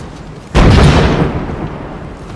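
A single loud cannon blast from a Lego WW2 D-Day Normandy landing stop-motion film booms suddenly, then rumbles and fades slowly over the next two seconds.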